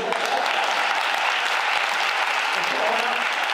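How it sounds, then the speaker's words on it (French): A studio audience applauds a television show's presenter in a dense, steady burst of clapping that holds at an even level throughout. "oui, vous pouvez m'applaudir."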